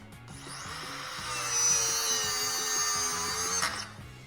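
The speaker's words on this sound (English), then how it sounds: "The little dual die grinder does just a wonderful job." A small die grinder cuts battery cables on a 1964 Bonneville, giving a steady high-pitched whine that rises slightly as it bites in and lasts about three seconds before spinning down, close and alone.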